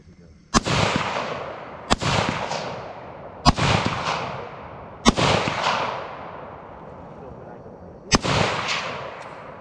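Several loud, sharp firearm gunshots from a handgun loaded with a regular magazine, five evenly spaced reports over about nine seconds, each cracking close by and ringing out with a short echo, with faint voices in between.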